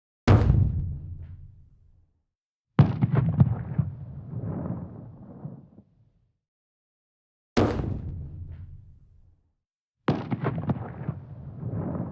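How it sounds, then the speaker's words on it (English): Four separate explosions boom out one after another with long silent gaps between them, each a deep, heavy blast that rolls and rumbles away as it decays. "maybe some kind of explosion in the distance"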